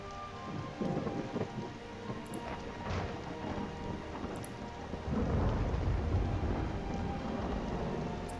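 Thunderstorm in the Skyrim video game: steady heavy rain pours throughout while low rolling thunder rumbles swell and fade, the strongest burst near the end, with no voices.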